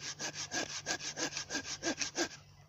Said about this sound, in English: folding saw from Wilkinson's that I've had many, many, many years